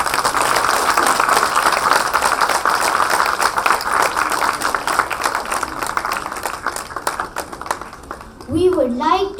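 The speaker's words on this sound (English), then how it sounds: "let's acknowledge them with another round of applause" Audience at a school annual day applauds a class performance, a steady wash of clapping that lasts several seconds before fading, as a voice begins speaking near the end.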